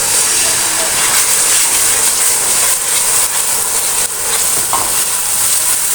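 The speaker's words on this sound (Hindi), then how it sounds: "अब जो है मैं इसमें डालूंगी टमाटर का पेस्ट डालूंगी।" Homemade tomato paste hits sautéed onions in a pan for matar keema, setting off a loud, close, continuous sizzle and hiss with faint stirring scrapes underneath.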